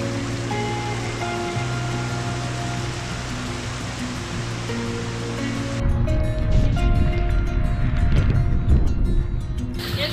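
Water pours across a flooded road in Mahabaleshwar, a loud continuous rushing roar like a small waterfall, first under a droning engine hum, then surging louder and broader for the second half.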